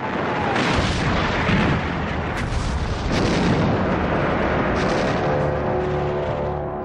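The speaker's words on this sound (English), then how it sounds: "the U.S. fleet begins a bombardment of the Mariana Islands in the southwestern Pacific" A U.S. fleet shells the Mariana Islands in a naval bombardment, heard as loud continuous rumbling booms and blasts that roll into one another without a break.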